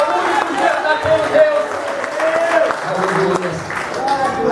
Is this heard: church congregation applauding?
yes